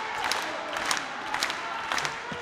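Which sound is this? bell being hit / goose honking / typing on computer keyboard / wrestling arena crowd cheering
wrestling arena crowd cheering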